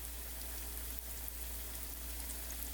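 Pork chops about half an inch thick frying in hot canola oil, giving a steady, faint sizzle and crackle with no voices.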